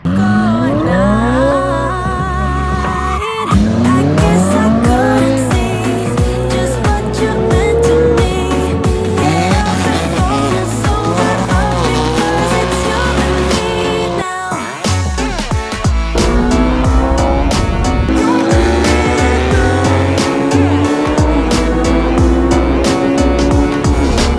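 A rear-wheel-drive Ferrari Aperta sports car drives through scenic country, its engine loud and close throughout, revving up and down in rising and falling sweeps with sharp shifts, a brief lift-off midway, and no talk.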